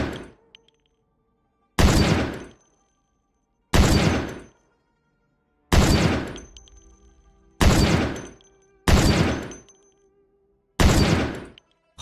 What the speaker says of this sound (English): this sniper is gonna be very accurate, and we are gonna hit some crazy shots